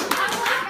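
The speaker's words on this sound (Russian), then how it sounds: "Я один хлопаю." A single person clapping hands at a taekwondo club gathering, a few quick, close claps in a short burst.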